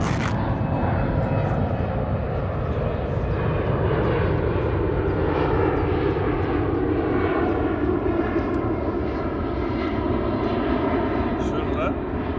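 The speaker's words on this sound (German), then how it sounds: "Da steht schon das erste Flugzeug." An airplane passes over Hamburg city, a steady broad engine roar that holds loud and continuous from start to end, with faint hiss on top and no clear voices.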